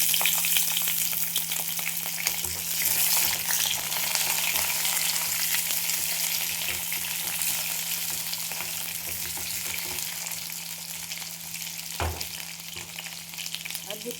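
Matar dal fritters frying in hot oil give a steady, close, dense sizzle that carries through the whole stretch, with faint stirring and a brief clatter near the end and no talk.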